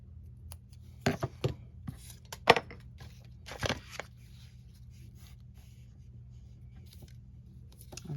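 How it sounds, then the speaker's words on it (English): Scissors trim a stem on an artist trading card, giving a few short, crisp snips close by, spaced irregularly over a quiet background hum. "I'm going to trim the stem."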